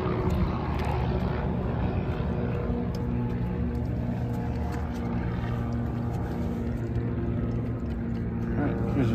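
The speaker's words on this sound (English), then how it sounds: "Southwest plane just took off." A Southwest airliner takes off nearby, a steady, loud engine roar with a low droning hum that holds throughout, with voices talking over it.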